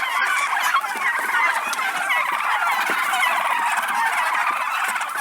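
A flock of turkeys gobbles and squeals at evening feeding time, a busy overlapping chorus of close, loud calls and honks that carries on without pause and without any talk.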